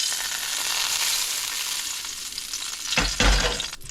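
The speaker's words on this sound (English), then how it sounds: "And we saute up the ginger and the garlic." Ginger and garlic sauté in hot sesame oil in a pan, giving a steady close sizzle with a couple of louder stirring scrapes near the end.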